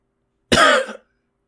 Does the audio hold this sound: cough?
yes